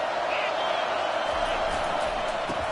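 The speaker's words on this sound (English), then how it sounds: "This crowd bringing the energy and noise early." A steady, loud roar of a stadium crowd cheering in the College Football 25 video game during a Syracuse game fills the whole stretch without a break.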